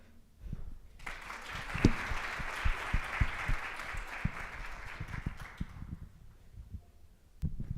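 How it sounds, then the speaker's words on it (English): An audience at a junior guidance night breaks into sustained applause lasting several seconds, a steady wash of clapping with a few sharper individual claps, tapering off near the end. "Let's give her another round of applause."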